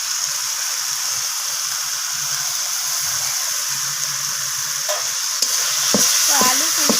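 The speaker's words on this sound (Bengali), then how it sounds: "তো আলু, ফুলকপি আর শিম সব কিছু মশলার সাথে এইভাবে কষিয়ে নিচ্ছি।" Potatoes, cauliflower and flat beans stir-frying with spices in a pan for a vegetarian curry give a steady close sizzle, with scraping spatula strokes growing more frequent near the end.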